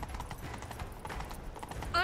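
A horse gallops in The Witcher 3: Wild Hunt, its hoofbeats a steady, rapid patter at moderate volume. A brief bright ringing tone cuts in at the very end.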